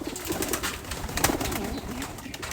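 Pet pigeons jostle over scattered feed and peanuts, cooing softly amid close flutters, scuffles and pecking taps, with no talking.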